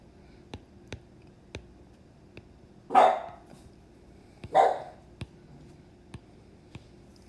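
A dog in a quiet room barks twice, a pair of sharp distant-sounding woofs a couple of seconds apart, between soft rhythmic clicking taps.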